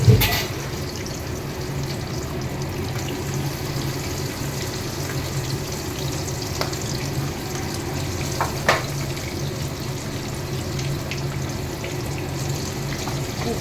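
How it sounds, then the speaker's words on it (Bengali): Tangra fish fry in a pan of oil with a steady, close sizzle and a few faint scrapes and clicks, with no talking. "এবার এখানে মাছ ভাজবো।"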